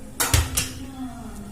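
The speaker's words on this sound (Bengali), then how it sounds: "কড়াইটা বসিয়ে দিয়েছি, এবার গরম করে নেব কড়াটা।" A metal kadai set down on a stove, two or three sharp metallic clanks in quick succession with a brief ringing tail, close and fairly loud, then quiet.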